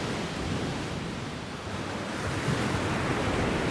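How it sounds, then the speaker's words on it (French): Ocean waves surge in a steady broadband wash of surf, loud and continuous with a slight swell toward the end, no voices present. "Les vagues s'amplifiaient."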